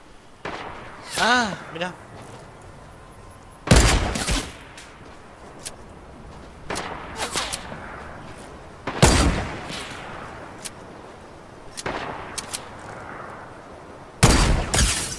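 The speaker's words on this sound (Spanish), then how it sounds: "Pero no sé dónde me están disparando" Gunfire in a video game comes at the player as sharp, loud bursts and single shots every few seconds, with one voice speaking briefly between them.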